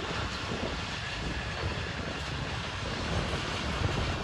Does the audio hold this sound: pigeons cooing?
no